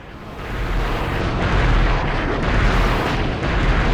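Explosions in the video game Future Cop LAPD, a dense, sustained roaring blast with rumbling low end and crackling debris, loud and continuous for a few seconds without speech.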